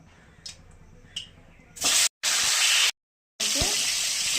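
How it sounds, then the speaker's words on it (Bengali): A hilsa fish head drops into hot white oil, bursting into loud spitting sizzle in two sharp bursts broken by brief cuts, after a few soft clinks. "দিলাম সাদা তেলে রান্নাটা করবো, মাথাটা ভেজে নেবো।"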